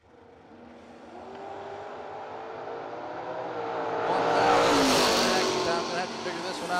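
Drag race cars, a Chevrolet Camaro and a Beretta, rev and roar off the line together, engines building from a distant rumble to a loud surging peak before easing slightly, with a commentator talking over the noise.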